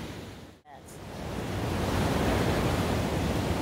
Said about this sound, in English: Early morning walk on the beach.